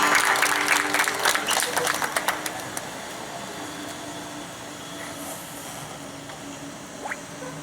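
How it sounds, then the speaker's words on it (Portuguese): Church congregation at a thanksgiving service claps, a burst of sharp, loud applause in the first few seconds that thins and fades into quiet room noise, with a faint voice near the end. "Dê uma salva de palmas ao Senhor Jesus."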